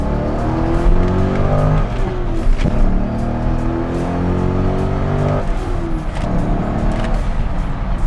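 A 2001 Corvette C5 in Magnetic Red revs hard to about 6,000 rpm, its engine note climbing in long sweeps, dropping back, then climbing again, loud and close with no talking.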